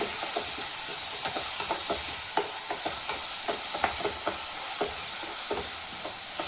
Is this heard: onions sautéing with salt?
yes